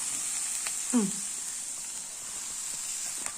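Masala for a pork fry sizzles in a pan as a steady, bright hiss, with a brief voice-like sound near the start and no clear stirring strokes.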